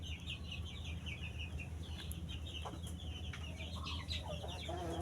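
A desi hen sitting on an egg in a village yard clucks softly and steadily, with high chick peeps scattered throughout against a low, continuous background hum.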